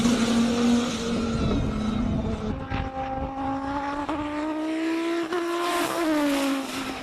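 A race car climbs the Cape Town hill climb course, its engine howling loud and close as the revs rise and drop through a series of smooth gear changes.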